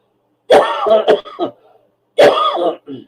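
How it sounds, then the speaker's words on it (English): Two bouts of harsh, close coughing, each a cluster of rough bursts separated by a short pause. "my cough seems worse today."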